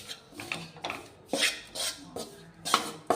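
Gram flour dry-roasting in a pan while a spoon stirs and scrapes it in repeated rasping strokes, close and fairly clear with no talk.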